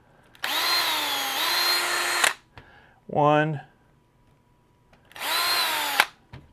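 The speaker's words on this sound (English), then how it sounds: "we're going to get our drill, and we're going to drill these holes out right here into the axle" A power drill drilling holes into the axle of a Losi LMT scale RC car, two close, loud high-pitched whirring bursts separated by a short spoken word.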